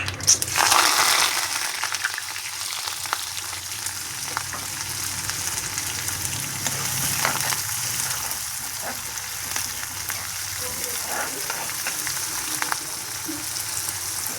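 Mustard seeds, cumin and onions fry in hot oil, giving a steady, close sizzle and crackle that holds evenly throughout with no voices.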